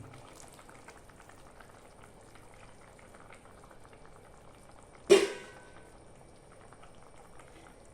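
Mango fish curry simmers in a covered pot, a quiet steady bubbling through the whole stretch, broken once by a sudden sharp clatter like the lid being moved.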